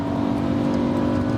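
A BMW car engine revs hard and steadily at high throttle, a loud sustained roar with no talking.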